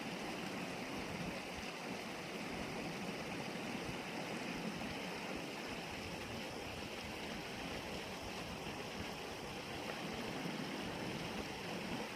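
Spring water gushes steadily out of a pipe at the head of a spring in the woods, a constant, close, even rush of flowing water.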